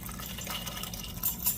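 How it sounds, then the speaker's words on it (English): Liquid pours quietly into a bowl over brown sugar and cornstarch, a soft splashing trickle with a faint clink near the end. "we're going to pour it over our brown sugar and cornstarch"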